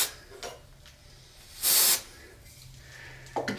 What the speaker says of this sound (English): Spray it with accelerator.